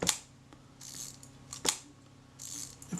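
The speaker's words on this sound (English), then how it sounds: "you can wind the film on." Film advance lever on a Retina Reflex camera, faulty and not locking at the end of its stroke, gives a few sharp mechanical clicks and ratcheting rasps spaced across a quiet room.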